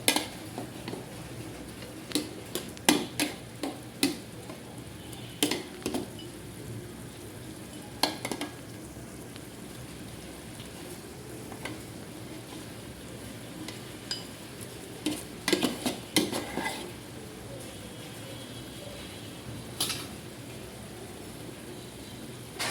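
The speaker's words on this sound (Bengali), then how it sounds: "আমি এই চিকেনগুলো একটু উল্টিয়ে পাল্টিয়ে দিব, যাতে মশলাটা এটার মধ্যে লেগে যায়" Chicken pieces being stirred and flipped in a spice mix in a pan, with a soft continuous sizzle and scattered scraping and clinking of a utensil against the pan, fairly quiet and close.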